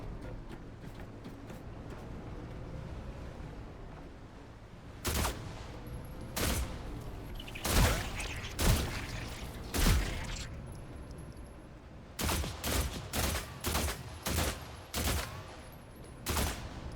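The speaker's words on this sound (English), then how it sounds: "Can't waste all my ammo shooting those little bastards" Gunfire in The Last Caretaker comes in scattered single shots, then a quick burst of rapid reports near the end, each crack loud against a quiet, low ambient background.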